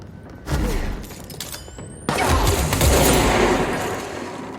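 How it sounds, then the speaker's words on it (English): Burst of gunfire in the video game Control, dense rapid shots with booming impacts filling the whole stretch, loud and close, briefly easing before a heavier volley resumes. "Who's still shooting at me?"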